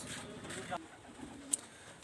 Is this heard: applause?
no